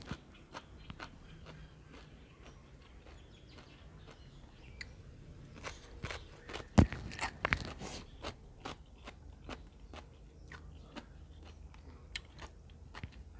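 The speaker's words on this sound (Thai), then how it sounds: "ฟังเสียงกรอบด้วยค่ะ" Crunchy food is chewed up close, giving a string of sharp, crisp bites and crackles over a quiet background, loudest midway.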